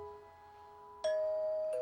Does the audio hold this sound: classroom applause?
no